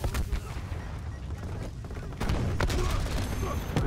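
Gunfire in Call of Duty Black Ops Cold War during a Hardpoint match, with rapid bursts of shots and booms in dense, overlapping volleys that grow louder toward the end.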